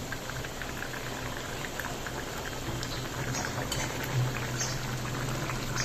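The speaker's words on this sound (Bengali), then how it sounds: "দেখুন ঝোলটা ফুটো, একটু পরে নামিয়ে নেব।" A curry broth of chana dal and yam bubbles at a steady rolling boil, a continuous close, even gurgle with no voices.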